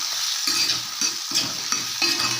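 Ingredients sautéing with salt in a pan for a chutney, sizzling steadily while a spatula scrapes in a quick, regular rhythm of about four or five strokes, close and clear.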